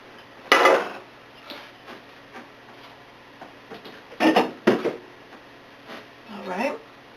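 A metal cake pan is shifted across a kitchen counter, giving a few sharp clattering knocks and scrapes in separate bursts, with a person talking between them.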